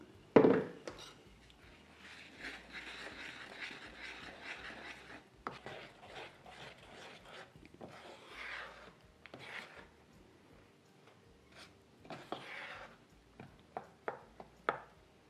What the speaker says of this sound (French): Alors, maintenant, on va mélanger.